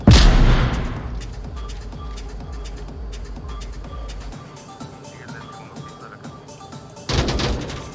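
A sharp, loud gunshot bursts out at once with a booming low-end decay during a defense at a large house, followed by quieter background sounds and a second loud burst of noise near the end.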